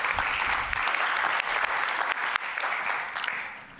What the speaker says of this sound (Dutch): Geef me een warm applaus.